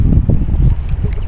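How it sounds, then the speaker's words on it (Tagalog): Wind blowing at sea while fishing off a corniche, a steady low rumble buffeting the microphone throughout, loud and close, with faint rustling over it. "Oh, mahangin."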